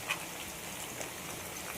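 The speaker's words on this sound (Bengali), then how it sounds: "সাংঘাতিক বৃষ্টি হচ্ছে সকাল থেকে" Heavy rain falls outside, heard as a soft, steady hiss of drops with a few faint ticks. The sound stays at a low, even level throughout.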